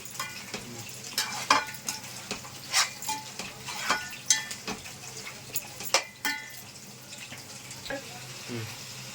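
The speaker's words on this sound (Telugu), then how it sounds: "ఒకసారి కలుపుకున్నామండి." A spoon scrapes and clatters in a pot of frying mutton for biryani, giving irregular stirring knocks and scrapes over a soft, low sizzle.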